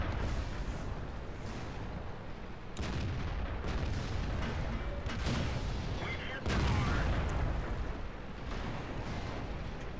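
Tank cannon fire in the video game World of Tanks, with heavy booming blasts and rumbling battle noise filling the whole stretch, one especially loud impact near the end, under continuous low game ambience.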